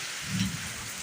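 Steady rain falls in a dense, even hiss with no other sounds over it.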